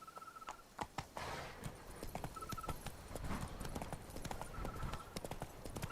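A horse's hooves clip-clop in a quick galloping rhythm in The Witcher 3, with an occasional snort or whinny, moderately close but soft overall, along with faint game effects.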